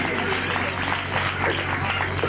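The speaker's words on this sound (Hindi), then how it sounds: "यीशु के लिए 5 उंगलियों से हम ताली बजाएं यीशु" A church congregation at a Christmas prayer festival claps with full hands, a dense steady patter under a speaking voice, with a low constant hum beneath.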